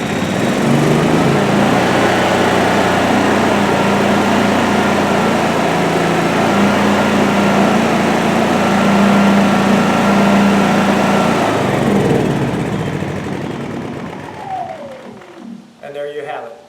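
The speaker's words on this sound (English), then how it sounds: "to start the generator, you go ahead and press the button for, I believe it's 5 seconds" A DuroMax 11000 generator running on an extended-run fuel kit gives a loud, steady engine drone with a constant low hum, then winds down and fades, leaving brief faint clicks and rustles at the end.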